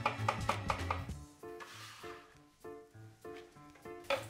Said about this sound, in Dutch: De champignons die gaan we ook snijden.